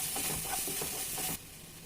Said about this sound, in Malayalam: ആദ്യം മഞ്ഞൾപ്പൊടി ഇട്ടൊന്ന് വഴറ്റിയെടുത്തിട്ടുണ്ട്.